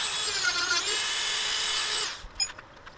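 A rotary tool fitted with carving burrs grinds into a red mallee burl spoon, a loud steady high-pitched whine for about two seconds before it cuts off, followed by a few faint clicks and handling knocks.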